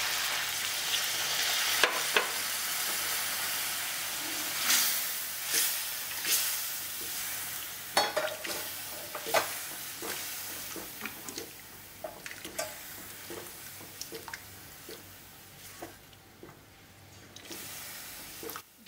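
Coconut milk and hot water go into a spice paste frying in oil for a Bengali potol and prawn curry, giving a soft, close sizzle and hiss broken by scattered stirring clinks and scrapes, with no talking.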